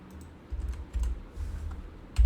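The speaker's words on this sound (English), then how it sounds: "@ and then I'm going to type this" Quick bursts of typing on a computer keyboard, close-up soft clicks in uneven clusters with brief pauses between them, and no talking over them.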